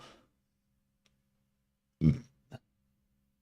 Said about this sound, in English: Damn burps, bro.